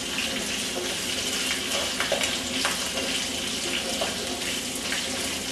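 Curry leaves crackle and hiss in hot oil in a pan while being stirred for a Malaysian curry, a steady, close, dense sizzle with occasional sharper pops and scrapes.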